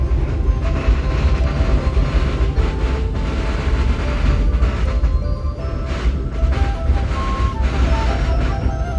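The Sembrani passenger train rumbles loudly and continuously into Semarang Tawang station, with heavy low-end roar and rattling wagons, steady throughout as it rolls in.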